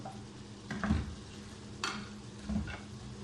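Potatoes stirred into a pan of fried chicken while cooking chicken jalfrezi. Soft sizzling sits under a few quiet scraping stirs and light clatters, faint and close.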